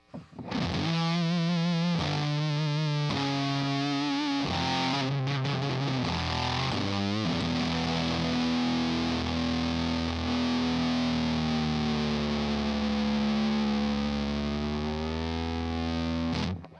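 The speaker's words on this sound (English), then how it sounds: "so that's the Sunface. Favorite fuzz pedal, man." Heavily distorted electric guitar through a Sunface fuzz pedal with a thick, buzzing fuzz tone, playing a few chords and notes, then a long sustained ringing note.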